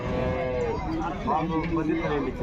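A heavy cow at the Punganur cattle market lows with long, drawn-out calls close by, while people talk over it throughout.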